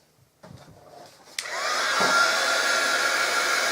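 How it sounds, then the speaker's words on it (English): A heat gun used for heat embossing is switched on after some handling clicks and blows hot air in a steady, loud, hair-dryer-like roar that continues to the end, with no talking. "Let me get out my heat gun."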